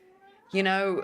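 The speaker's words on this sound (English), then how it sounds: "sorry, that's my cat." A house cat meows loudly once, a drawn-out tonal cry close by, following a brief quieter meow and ongoing speech.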